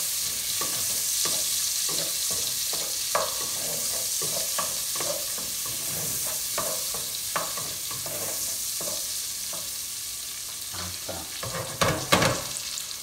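Jalapeño chiles sizzle steadily in hot lard for refried beans, a constant frying hiss broken by repeated scraping knocks of a spoon stirring the pan, growing busier near the end.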